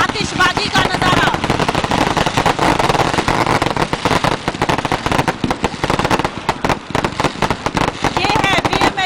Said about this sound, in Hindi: जबरदस्त आतिशबाजी का नजारा।